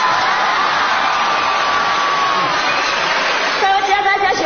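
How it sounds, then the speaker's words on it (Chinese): Audience applause at a concert at the 2002 Golden Eagle TV Festival in China, a steady dense wash of clapping from a large crowd filling the whole moment, with a brief rise in cheering near the end. "可是我听到了掌声"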